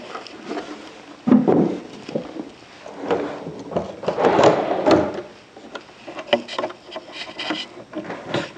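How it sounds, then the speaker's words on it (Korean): Wooden dresser drawers are pulled out one after another during furniture assembly, giving repeated sliding wood rubs and dull knocks, fairly close and moderately loud, with no talking. "상판 조립을 위해서 서랍을 다시 다 빼도록 하겠습니다"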